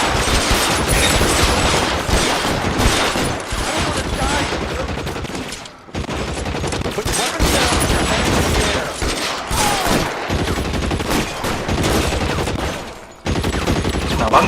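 Heavy, continuous gunfire in L.A. Noire, with dense overlapping shots and rapid bursts rattling loudly and almost without pause, broken by two brief lulls.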